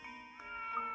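A short, tonal meow from Claudia the cat in the Professor Layton video game, a single sustained cry heard clearly and alone.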